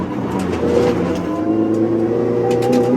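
Race car engine on the Winton circuit track, the driver shifting into third gear with cold tyres; a loud, close, steady engine drone with rising harmonic tones as revs climb.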